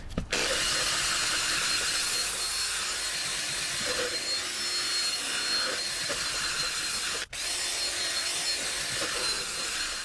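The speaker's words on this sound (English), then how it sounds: "I'm going to use the Aqua Pro Extractor to do multiple passes to extract as much of that dirt and filth and gunk that's accumulated in the fabric" An Aqua Pro extractor makes multiple passes over a heavily soiled cloth car interior, giving a steady, loud, close suction roar with scrubbing texture and one brief cutout partway through.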